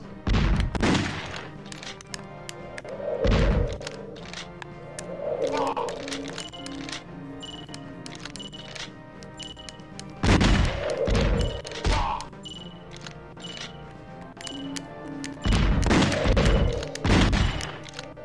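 Bursts of gunfire strike Superman in Superman 64, arriving as clustered volleys of sharp thuds and cracks a few seconds apart over a game soundtrack, with quieter stretches in between.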